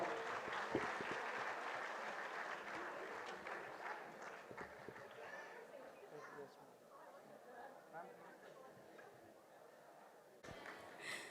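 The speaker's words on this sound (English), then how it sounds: "Please, everybody, give a huge round of applause for ma'am." Audience applause at a medical college annual function in Bhopal, as a faculty guest is called to the stage: sustained clapping from a large crowd that fades slightly near the end.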